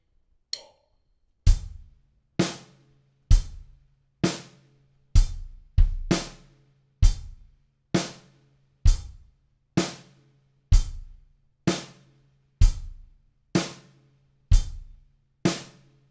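A drum kit plays the verse beat of a song alone: a steady, evenly spaced pattern of sharp kick and snare hits, about fourteen strikes at a moderate tempo, close and clean.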